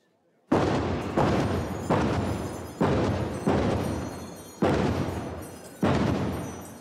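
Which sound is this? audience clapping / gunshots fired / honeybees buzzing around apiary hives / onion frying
gunshots fired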